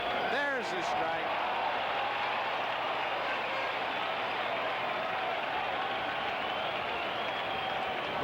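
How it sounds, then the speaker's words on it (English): A packed baseball stadium crowd at the 1978 World Series between the New York Yankees and Los Angeles Dodgers roars in a dense, steady wash of cheering, with a broadcast voice speaking briefly near the start. "Look at the crowd. Listen to the crowd."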